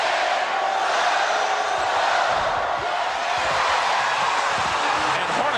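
A packed basketball arena crowd at a 1996 NBA Western Conference Finals game in Seattle gives off a loud, continuous roar with rhythmic chanting swells that hold steady throughout.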